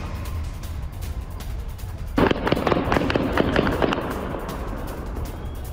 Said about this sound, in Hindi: गोलियों की तड़तड़ाहट आप सुन सकते हैं।